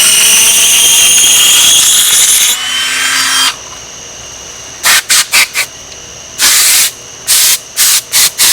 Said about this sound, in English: When you got an air duster, it makes life a lot easier.